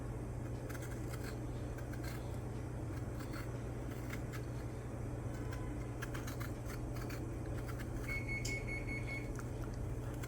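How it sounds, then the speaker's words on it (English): An oven timer alarm goes off in a home kitchen as a thin, faint electronic beep over a constant low hum and scattered small clicks. "That's the oven is going off."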